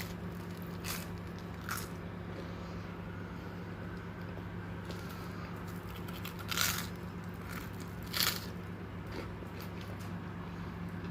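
Someone bites into crunchy air-fried toast filled with potato, giving a few faint, sharp crunches spaced seconds apart in an otherwise quiet room.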